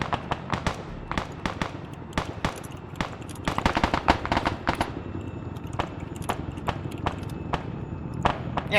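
Soldiers in Arma 3 exchange gunfire: sharp single shots and short rapid bursts crack at irregular intervals, some close and loud, others more distant, with a thicker flurry of fire in the middle.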